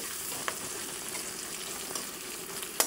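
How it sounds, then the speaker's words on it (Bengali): Spices and ingredients fry in a pan until browned, giving a steady, close sizzle throughout with a couple of sharper pops and spatters. "এটা ভালো করে আমি ভেজে নেব, লাল লাল করে দেব।"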